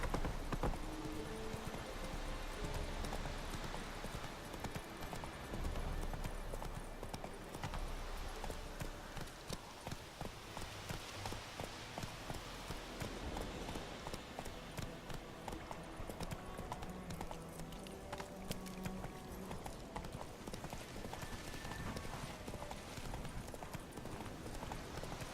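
In The Witcher 3: Wild Hunt, horse hooves drum steadily through a long gallop, loud and near, under game music, with short bursts of in-game voices in places.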